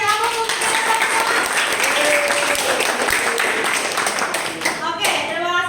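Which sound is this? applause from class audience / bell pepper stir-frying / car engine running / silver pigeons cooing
applause from class audience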